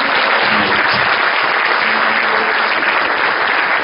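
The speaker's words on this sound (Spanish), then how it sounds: "Y si le damos un aplauso y lo animamos." A church congregation applauds loudly and steadily for a pianist, dense clapping sustained throughout without a break.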